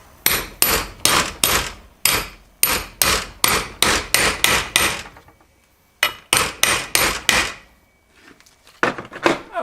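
A seal is hammered into a C6 transmission from a 1980 Ford F-350 service truck. Bursts of sharp, close metallic-wooden blows land in quick runs, pause briefly, resume in another fast series, then end with a few scattered taps.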